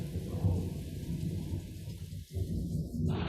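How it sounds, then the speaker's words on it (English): Steady rain pours down through a gathering storm with low rumbling thunder, a continuous dense wash that briefly dips before swelling again, heard alone without voices. "Do you hear that rain and thunder?"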